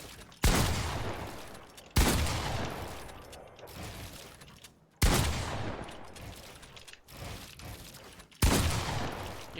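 Five loud shotgun blasts ring out in a video game at irregular intervals, each a sharp close crack with a decaying tail before the next shot.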